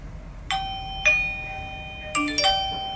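A Eufy battery video doorbell chimes in clear ringing tones, a few single dings followed by a quicker double ding-dong, heard over a faint background hum.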